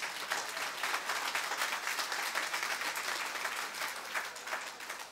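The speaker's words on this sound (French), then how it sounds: "Vous faites les malins en applaudissant." Steady audience applause at a French speaking event, dense and continuous for the whole stretch, fairly far off and even in level with no voices over it.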